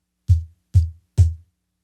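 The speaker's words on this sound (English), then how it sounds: "it can be troublesome when you knock the desk and get sounds like this" Three dull, boomy knocks on a desk land at an even pace, each low thud dying away quickly into silence, close to the microphone.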